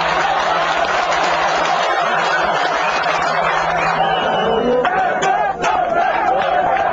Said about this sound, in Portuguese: A torcida grita o nome dele.